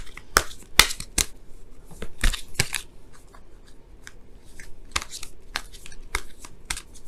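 Tarot cards being shuffled, close-up bursts of crisp riffling and slapping card sounds in uneven clusters with brief pauses between, with no talking.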